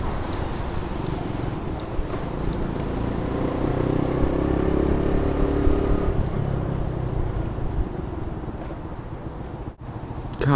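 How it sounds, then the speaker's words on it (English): A 100cc motorcycle rides through Brooklyn streets, its engine droning steadily close by under broad wind and road rumble, with passing traffic in the background and a brief drop in noise near the end. "it's a 100cc bike that is perfectly capable of moderate highway speeds"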